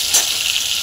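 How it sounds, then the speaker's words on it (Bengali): Onion frying in hot oil with cumin, a steady close sizzle that holds through the whole short moment, with a slightly louder burst near the start. "পেঁয়াজ ফোড়ন দিয়ে পেঁয়াজটা একটু ভাজা ভাজা করব"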